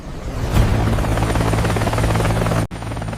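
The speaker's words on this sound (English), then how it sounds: "The rotors begin to spin." A helicopter's rotors spin up, thumping loudly and steadily nearby inside a helicopter factory, a heavy pulsing drone with a whining engine tone, and no voices.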